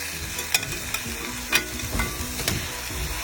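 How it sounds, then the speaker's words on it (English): Browned, caramelizing pieces being flipped in a hot pan: continuous close sizzle punctuated by several sharp scraping clacks of a utensil as each piece is turned, no talking. "once I feel like they're browned enough, I'll flip them over"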